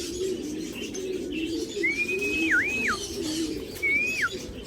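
Pigeons coo and call in a loft, with two clear rising-and-falling whistled calls standing out over a steady murmur of lower cooing and a constant background hum.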